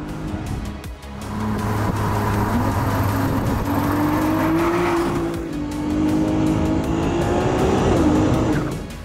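A Ferrari 296 GTS sports car driving with its top open on a mountain road, the engine note rising and falling through gears, loud and close, with wind noise and no talk.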